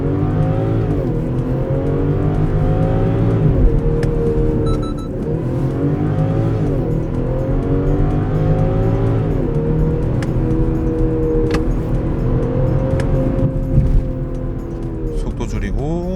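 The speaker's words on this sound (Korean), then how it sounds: "스포츠 모드를 놓고 이 가속하는 느낌 이런 걸 한번 체크해 볼게요." A BMW 630i GT with a six-cylinder petrol engine accelerating hard in sport mode, its loud engine note climbing and dropping through repeated gear shifts, heard from inside the cabin.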